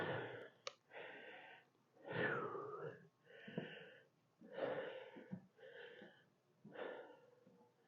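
A person who has just exercised breathes heavily, with a series of loud wheezing breaths in an uneven rhythm, close up and alone without talk.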